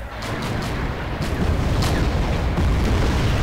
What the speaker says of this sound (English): Still shelling with my mortars.